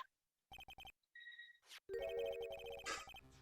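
Video game phone sounds after pressing redial: a quick series of beeping dial tones, a brief pause, then a loud electronic ringtone melody that chimes on steadily to the end.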